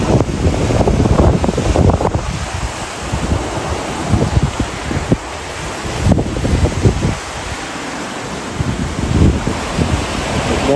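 Sea waves breaking against coastal rocks on Valentia Island, Kerry, with strong wind buffeting the microphone; a continuous loud roar of surf and gusts, rising and falling in surges with no talk.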